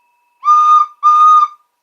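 Two loud, steady whistle blasts in quick succession, each about half a second long, with a bright, toy-train-like tone.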